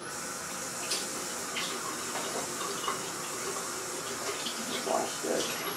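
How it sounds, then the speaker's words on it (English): Water runs steadily from a kitchen tap as a bowl is washed, a constant hissing splash at moderate level with faint clinks and no talk. "I had to wash this because I don't want to get eggs and stuff in here"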